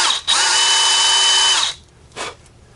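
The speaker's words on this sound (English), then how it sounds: "you just want to clean it out with an 1/8 inch drill" A power drill with a 1/8 inch bit drilling out a fishing jig hole whirs at a high, steady pitch for over a second, stops, then gives a short second burst, close and loud.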